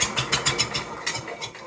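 A Ford 641 tractor engine cranks over with too much choke, a close, rhythmic series of chugging pulses, roughly four or five per second, without fully catching.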